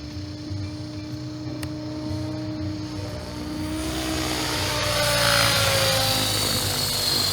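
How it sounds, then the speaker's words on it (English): A helicopter glides with its main rotor shut down and no throttle, giving a steady layered droning whine that swells into a louder airy whoosh over the last few seconds, moderately close, with no talking. "I'll turn around and I'll shut the main rotor down and glide."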